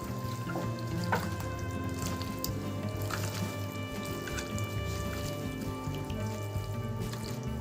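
Raw chicken being kneaded by hand with ginger-garlic paste and salt for a methi chicken marinade, giving a steady, close, wet squelching and squishing that runs throughout over a constant tonal background hum.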